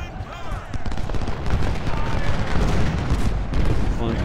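Musket volleys crackle and boom in the Civil War strategy game Ultimate General: Civil War, with dense, overlapping gunfire rolling continuously under a voice.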